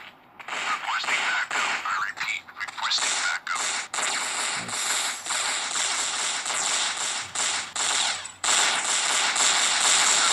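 Gunfire in the video game Counter-Strike 1.8, with rapid bursts of automatic shots and clicky mechanical weapon sounds filling the clip almost continuously, loud and dense, and a voice talking at times underneath.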